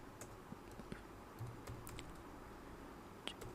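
Computer keyboard typing while entering HTML code, light scattered keystrokes in an irregular rhythm, quiet and close with no talking.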